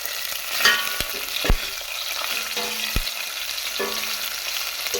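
Onion and garlic sautéing with turmeric in a pan for a village-style eggplant and peanut kara kuzhambu, a steady close sizzle with a few sharp stirring knocks against the pan, no talking.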